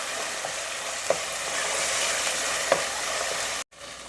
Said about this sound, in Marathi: तेल सुटेपर्यंत हा मसाला आपल्याला छान परतून घ्यायचा आहे